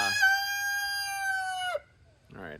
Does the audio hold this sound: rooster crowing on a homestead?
yes